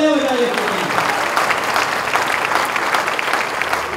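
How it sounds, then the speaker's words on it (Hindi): Church congregation applauding during a Friday service, a loud continuous wave of clapping from the crowd, with a voice briefly audible at the outset. "जोरदार तालियां बजाइए।"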